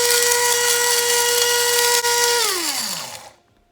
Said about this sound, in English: But I wonder what grinding our snazzy nice Manumit beans